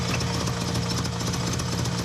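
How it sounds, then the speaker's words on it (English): A Subaru EA82 engine idles with its idle raised, producing a loud, steady, close droning rumble with an even throb and no break. "Let me turn my idle up."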